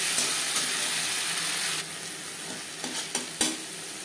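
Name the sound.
frying ginger, green chilli, garlic, onion and tomato in hot oil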